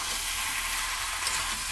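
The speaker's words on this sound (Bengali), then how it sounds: "চিকেনটা কষানো হচ্ছে।" Chicken being sautéed in a pan, making a dense, steady sizzle that is close and even from start to finish.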